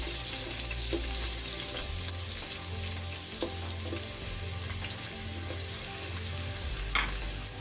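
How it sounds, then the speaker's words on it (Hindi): Onions hit hot oil for bhindi bhujia, a dense steady frying hiss held throughout with a few soft stirring clicks and a low background hum, close and fairly loud, no speech. "तेल गरम हो चुका है, प्याज डालेंगे।"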